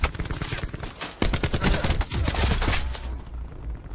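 Rapid gunfire from Call of Duty Black Ops 4 multiplayer, dense bursts of automatic shots rattling close and loud throughout, with heavier impacts joining midway before the firing thins out near the end.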